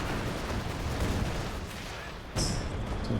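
Artillery barrage in a strategy video game, a continuous dense rumble of distant booming impacts and rolling fire with a sharper burst near the end.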